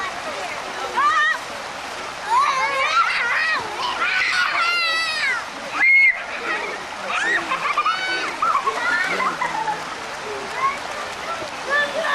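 A child splashes water in a shallow outdoor stream, with repeated close splatters over steady running water while adults and children talk and call out throughout.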